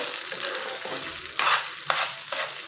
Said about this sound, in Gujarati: હવે આપણે કુકરના ફાળા બધા જ પેનમાં નાખી દઈશું.